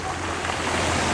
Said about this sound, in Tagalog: Nagwala yung alon mga lods.